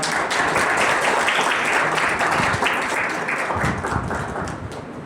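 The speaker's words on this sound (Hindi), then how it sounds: "जोरदार तालियां।" Loud, dense applause from an audience at an award ceremony, a continuous wash of many hands clapping at steady strength, with no talk over it.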